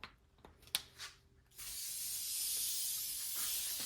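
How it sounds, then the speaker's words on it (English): Aerosol spray glue hisses from a can onto car seat covers in one long continuous burst, loud and close, after a few faint clicks and rustles. "Do not skimp on the spray glue."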